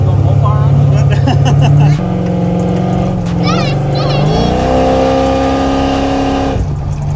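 An 800-horsepower 1971 Chevelle hot rod accelerates hard, its loud engine note climbing in pitch and dropping at two clear gear shifts, with brief voices mixed in.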